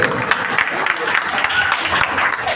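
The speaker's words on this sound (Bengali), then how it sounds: "প্রভুর জন্য জোরে করতালি, জোরে" An audience at a Jagannath religious program quiz clapping for a correct answer, steady mid-level applause with a voice speaking over the clapping.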